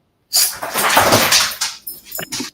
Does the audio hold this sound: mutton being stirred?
no